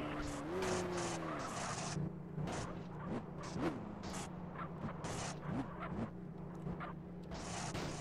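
A video game car engine revs and whines while tires squeal and skid repeatedly, loud and continuous with no pauses.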